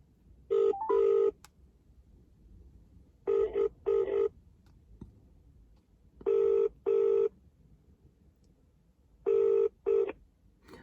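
A telephone rings in four evenly spaced double rings, each a loud electronic trill separated by quiet pauses. It sounds alone, with no talking.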